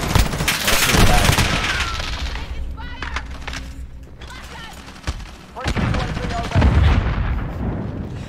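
Gunfire in the Modern Warfare beta multiplayer game, with dense bursts of shots and blasts filling most of the span, briefly easing mid-clip before loud firing returns.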